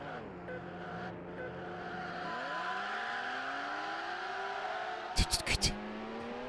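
Ferrari race cars in Need for Speed: Hot Pursuit 2 rev and accelerate, their engine pitch climbing and shifting, before a short cluster of sharp impacts near the end, with a voice talking over the driving.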